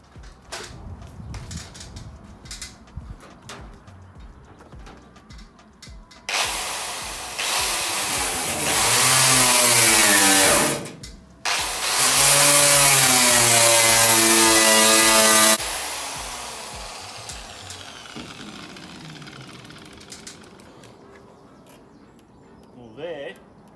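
An angle-grinder-type power tool with a knotted wire wheel stripping a 1966 Chevy C10 truck cab roof to bare metal, a loud rising high-speed whir and grinding in two sustained bursts with a short break, then winding down; birdsong is faint around it.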